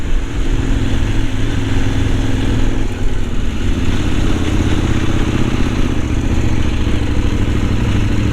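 Motorcycles of other riders on a high-altitude enduro trail in Sichuan, a loud, steady engine drone with gritty clatter throughout, heard close and continuous without any speech.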